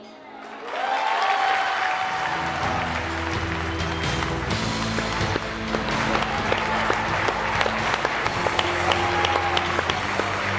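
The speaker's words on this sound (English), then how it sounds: "if I could please have everyone help me cheer for my incredible teacher, Miss Bray." An audience at a Golden Apple teacher awards event claps and cheers for a teacher, loud sustained applause that builds quickly and carries on steadily with dense, sharp hand claps.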